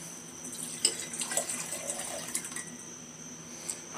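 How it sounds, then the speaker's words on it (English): Water is poured into a chemistry beaker in a lab, to be used with nitric acid for a digestion step; a faint, steady trickle and splash runs throughout with no speech. "add the water,"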